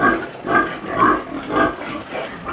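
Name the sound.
pregnant pig on a farm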